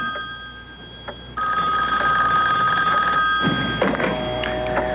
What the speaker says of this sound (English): Their phone began to mysteriously ring.